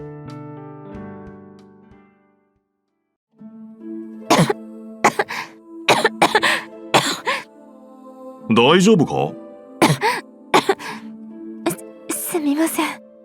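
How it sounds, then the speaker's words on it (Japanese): A person coughs persistently in repeated harsh bursts and throat clears, bout after bout over several seconds, following a quiet opening with soft tones; a voice briefly speaks between the coughs. "咳が収まらない。"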